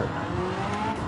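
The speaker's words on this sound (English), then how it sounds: "That was my engine." A race car engine revving in Gran Turismo 7, a steady high-pitched drone with a rising tone, continuous and fairly loud over about a second with no other sound.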